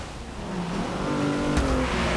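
A Lexus engine in the Forza Motorsport 6 racing game revving and pulling up through the gears, a steady close drone that rises in pitch, with a brief sharp knock near the end.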